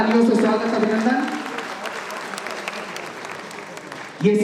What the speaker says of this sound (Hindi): जोरदार तालियों से स्वागत, अभिनंदन।